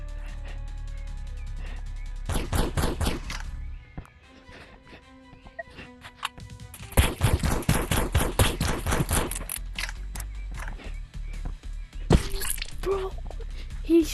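Rapid bursts of gunfire in the Oculus VR game Animal Rivals: clusters of fast, loud shots separated by quieter gaps, with a few isolated single shots.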